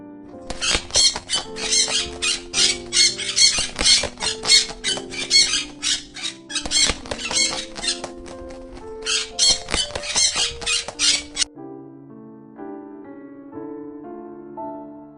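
A cartoon bird squawks in repeated bursts over a soft musical backing, then the calls stop and the music carries on alone.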